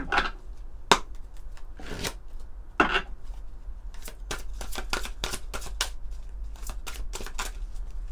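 Oracle cards being shuffled by hand, a run of crisp riffling slaps and flicks in quick irregular succession, close and clear over a low steady hum, with no talking.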